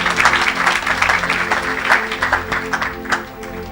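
An audience at an evangelical church service claps steadily and loudly, a dense continuous applause filling the room and easing slightly toward the end.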